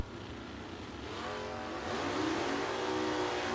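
A 1969 Camaro running at a bracket drag racing event, engine roar building steadily and growing louder as the car accelerates, heard from a distance with a broad rumbling tone.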